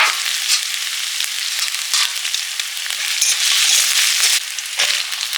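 Chili chicken frying in a pan, giving a loud, continuous sizzle with crackling pops and occasional stirring scrapes, close up and with no voices.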